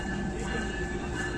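A 102 Down Subak Raftar railcar led by locomotive GO20 4559 of Pakistan Railway rolls into platform 3 in rain, giving a steady loud rumble with faint tonal whine and no talk.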